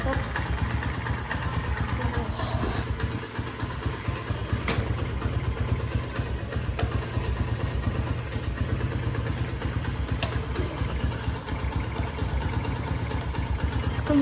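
A Honda CD 70 motorcycle idles steadily with a continuous low, slightly clattering engine rumble, close by, while someone talks over it.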